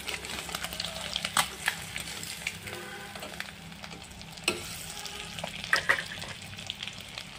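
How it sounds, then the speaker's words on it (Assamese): Eggs fry in oil in a pan with a soft, steady sizzle. Occasional utensil scrapes and light clinks from stirring cut through, all fairly quiet and close. "কণীকেইটাও ফ্ৰাই কৰা হৈ গ'ল"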